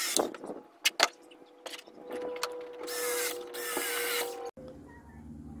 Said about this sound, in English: I'm going to secure the brackets with the screws for the PVC base.